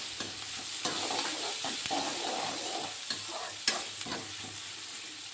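Onions sautéing in a pan until golden, a steady close sizzle with repeated scraping stirs of the spoon running through the whole stretch, no voices.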